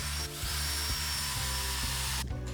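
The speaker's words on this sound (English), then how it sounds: "I'm drilling holes for the timber bolts to go through." Power drill boring holes in timber for timber bolts on a home-made lathe, a close, steady motor whine with rhythmic pulsing as the bit bites, then cutting off near the end.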